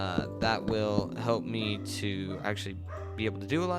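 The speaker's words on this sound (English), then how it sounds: "Sorry about my dog in the background, she's being stupid." A pet dog in a home yips and barks in the background while someone talks continuously over it, the short high barks breaking through his speech several times.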